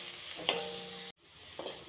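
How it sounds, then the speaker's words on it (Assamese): Spice powder frying in a pan for a fish curry with pointed gourd, a steady close sizzle with a couple of brief stirring scrapes and a short break midway. "এইখিনি অলপমান ভাজি ল'ম।"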